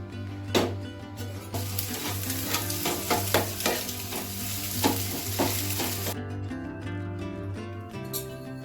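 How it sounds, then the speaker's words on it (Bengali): Three eggs are scrambled and fried into egg bhujia for egg fried rice, giving a close, steady sizzle with repeated spatula taps and scrapes in the pan and no talking. "প্রথমেই ওই 3টে ডিমের ভুজিয়া বানিয়ে নিচ্ছি।"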